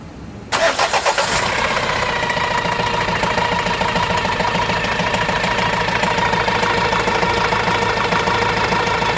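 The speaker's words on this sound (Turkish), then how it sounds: "Aracı çalıştır" A car engine with worn timing gears cranks briefly, catches and starts, then settles into a steady, loud idle with a rhythmic knocking chug.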